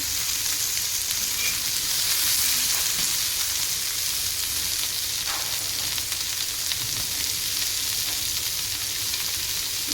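Garlic sizzles and crackles in hot oil while frying for stuffed bitter gourd, a steady close hiss with small pops and occasional stirring, no talking.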